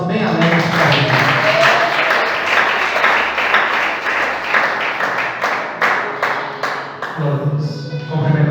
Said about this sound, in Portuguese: Recebe ele com palmas bem alegres para a gente.